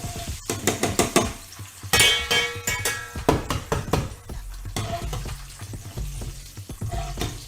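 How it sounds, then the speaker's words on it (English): Vermicelli noodles fry in a pan with a loud crackling sizzle, broken by repeated sharp clinks and scrapes of a utensil against the pan in an irregular rhythm. "I'm going to actually fry one more lot of the vermicelli"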